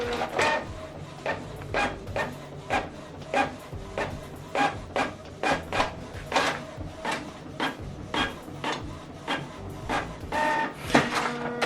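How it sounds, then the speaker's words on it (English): A home printer prints a single page, its mechanism clacking and whirring in a steady series of short, evenly spaced pulses, close and moderately loud, with no talking. "I'm going to print only page 1 now, and this printing, so only page 1 is going to print out"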